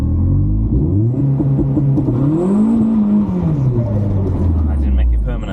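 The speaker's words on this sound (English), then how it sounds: "I've just done a burnout and not gone anywhere" An Astra VXR engine holds a loud, steady rev under 2-step launch control, its deep droning note rising and sagging as the tyres spin in a burnout, with someone talking over it.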